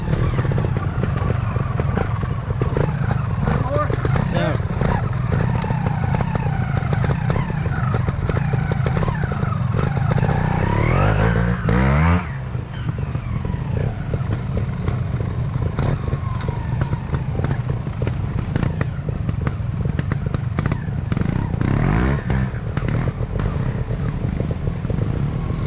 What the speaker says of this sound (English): Riding the beta 4 stroke today was quite interesting